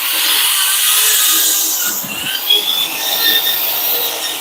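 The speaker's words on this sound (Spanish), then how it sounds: "Entonces estamos perforando aproximadamente 1 pulgada en espesor." Drill boring through roughly one inch of metal on a truck, mounting a spare-tire carrier from a Volkswagen Constellation onto a Dodge dump truck; a loud continuous high-pitched grinding whine with slight wavering.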